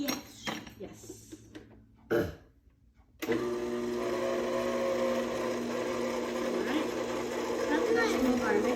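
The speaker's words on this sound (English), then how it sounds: "at a low speed, we're going to add our flour just a little bit at a time while it mixes" A stand mixer runs steadily at low speed, kneading breadstick dough in a home kitchen, with a continuous motor hum and whir after some clinking of bowls and utensils at the start.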